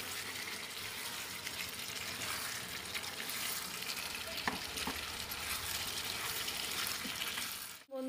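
Chicken and fried potatoes stirred in a hot pan, a loud steady sizzle and frying crackle with scraping stirring throughout, close and continuous.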